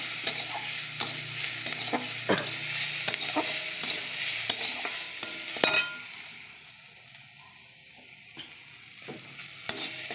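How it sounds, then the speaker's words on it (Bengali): Chopped onion, ginger, garlic and green chili sizzle in hot oil with five-spice tempering in a wok, with a spatula scraping and stirring in sharp clicks; the frying hiss fades partway, then picks up again. "কড়াইয়ের মধ্যে তেলে 5 ফোড়ন কাঁচা লঙ্কা দিয়ে তারপরে পেঁয়াজ আদা রসুন কুচি দিয়ে দিলাম"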